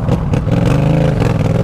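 A Yamaha MT-07 motorcycle engine revving loudly and close by, a steady rough growl that rises and falls slightly over a moment, with no talking.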